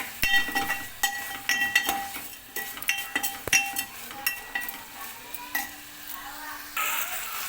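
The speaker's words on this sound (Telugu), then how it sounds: "చెంచా మీద కొంచెం రాళ్ళు ఉప్పు ఇంకా వన్ స్పూన్ ధనియాల పొడి సార్ అయితే మొత్తం కలిసేలా కలుపుకుందాం" A spoon stirs rock salt and coriander powder into an okra and tomato curry in a hot pan. Clinking and scraping strokes run over a steady sizzle, close and clear, with no talking.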